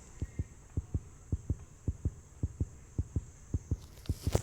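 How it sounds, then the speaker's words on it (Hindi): A steady, fast heartbeat sound effect from the horror video game Granny thumps in regular double beats under a faint high hum, with no talking. "अरे मेरे दिल की धड़कन क्यों तेज हो गई?"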